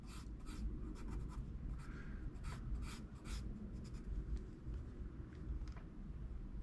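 An ebony pencil scratching and stroking across paper in quick, repeated strokes, close and steady, with no voices.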